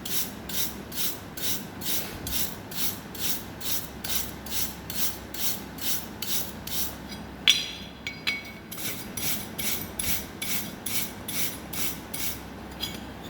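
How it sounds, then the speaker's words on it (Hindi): A three-row wire brush scrubs a gas-welded tee fillet joint on mild steel sheet in steady back-and-forth strokes, about two per second, close and rasping, with a brief pause and a metallic clank midway. "3 रो वायर ब्रश मेरे हाथ में है, तो अभी मैंने साफ़ कर रहा हूँ।"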